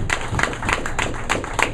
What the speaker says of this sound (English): So I want y'all to give a big applause for Kevin.